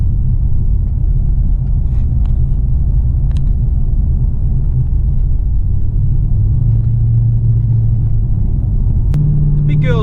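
Holden Caprice heard from inside the car under acceleration, a deep, heavy exhaust rumble that swells and drones steadily and loud, with a voice briefly speaking near the end.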